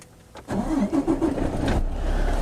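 A Freightliner truck's diesel engine cranks briefly and catches during a pre-trip inspection, then settles into a loud, steady idle close by.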